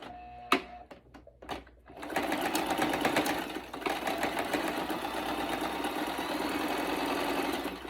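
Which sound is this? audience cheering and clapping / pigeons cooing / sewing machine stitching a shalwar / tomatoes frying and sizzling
sewing machine stitching a shalwar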